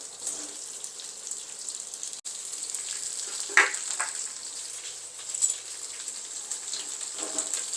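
Chopped red onions fry in a hot pan, a steady soft sizzle with crackling bursts running throughout, fairly quiet and close with no talking.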